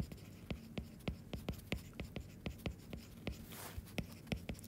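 Chalk or marker tapping and scraping across a board while writing out a math equation, a steady rhythm of short, crisp strokes close by, with a faint low hum underneath and no talking.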